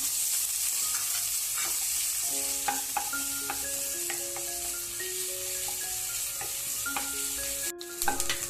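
Onions sizzle steadily in a hot pan for a vermicelli chicken biryani while a utensil scrapes and stirs, with occasional clinks over the continuous frying hiss.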